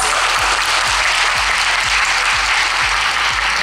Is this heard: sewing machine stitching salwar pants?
no